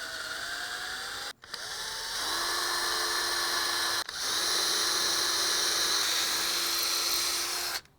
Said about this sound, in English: Pre-drill my hole